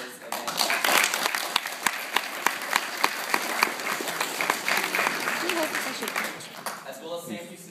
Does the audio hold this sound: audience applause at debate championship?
yes